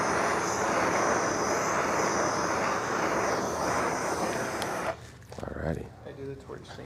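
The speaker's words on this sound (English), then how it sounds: "I do the torch thing with pine resin." A torch flame roars as a steady, loud broadband hiss while being played over epoxy resin, cutting off abruptly near the end, followed by brief speech.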